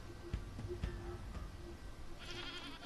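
A goat bleats a few times, faint and wavering, over a dense, noisy background.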